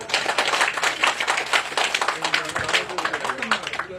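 Sustained, even applause from the crowd at a park golf course opening ceremony in Yeonsan-myeon, Nonsan, with many hands clapping steadily for the full stretch.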